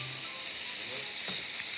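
Meat sears in a hot pan in a chef's cooking challenge, giving a loud, steady sizzle with faint stirring scrapes and no talking.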